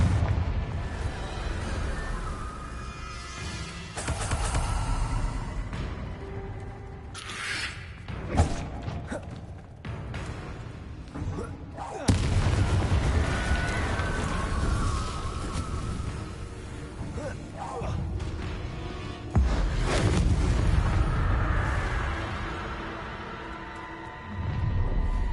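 Explosive spell blasts in the Hogwarts Legacy video game: several heavy booms and thuds strike at irregular moments, each followed by rumbling decay, with brief gaps between bursts.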